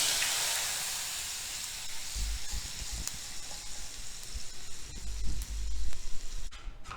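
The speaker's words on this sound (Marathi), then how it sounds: "आता आपण ही फोडणी गरम गरम ह्या वाटलेल्या मिरचीवर घालायची" Hot tempering oil poured over ground red chili paste gives a soft, steady sizzling hiss, joined by low thumps and handling noises from the pan and jar, with no talking.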